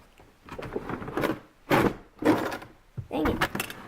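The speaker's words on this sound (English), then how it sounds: "First, you got your first drawer, kind of stiff" A stiff drawer on a large metal tool set, loaded with pliers, scrapes open in a few rough, uneven pulls with clunks, close by and alongside a voice talking.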